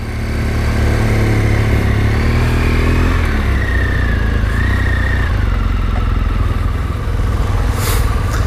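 A motorcycle engine drones loud and close as riders set off on a police-led Bikesafe ride, the pitch rising and shifting through gears with steady wind rush and no talking.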